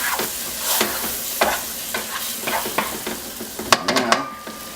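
A spoon stirs a roux-based sauce for lobster thermidor in a pan, with repeated scraping strokes over a soft, steady sizzle, close and fairly quiet, ending in a few sharper metallic clinks.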